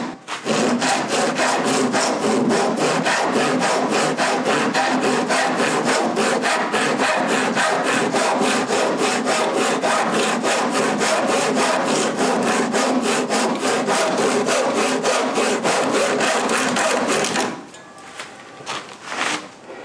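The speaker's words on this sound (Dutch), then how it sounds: "Dus als ik dit nou zo zaag." A hand saw rasps steadily through wood in fast, even back-and-forth strokes, loud and close, stopping abruptly near the end.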